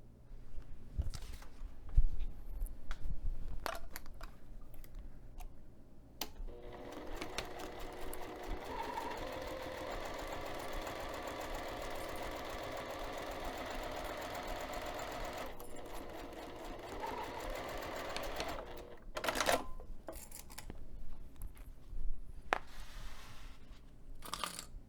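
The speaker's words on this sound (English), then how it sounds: "I'm going to take this over to the sewing machine and sew this pinned edge" Sewing machine stitching a pinned quarter-inch seam on a zipper pocket for a bag, a steady whirring run of about twelve seconds framed by shorter starts, clicks and fabric handling.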